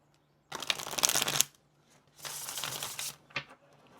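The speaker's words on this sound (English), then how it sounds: "Real quick shuffle" A tarot deck being shuffled quickly by hand in two close, crisp bursts of riffling card flutter, separated by a short pause and ending with a soft tap.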